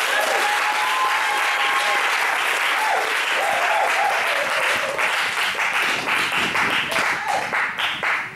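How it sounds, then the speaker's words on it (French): A church congregation bursts into sustained, loud applause and cheering for Jesus, dense clapping filling the room from start to finish with voices mixed in beneath it. "Est-ce que tu peux acclamer Jésus?"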